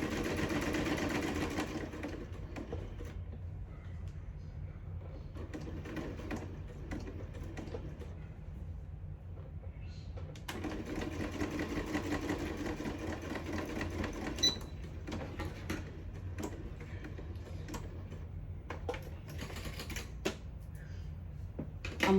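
Sewing machine stitching fabric for scrappy belly bands, a continuous fast mechanical whir with brief pauses and restarts, close and fairly quiet, with no talk.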